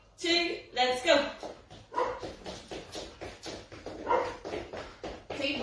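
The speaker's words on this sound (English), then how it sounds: "See, the dog's giving out to you" A dog barks during an upbeat group workout, a run of sharp close yaps and yips coming in quick succession alongside energetic voices.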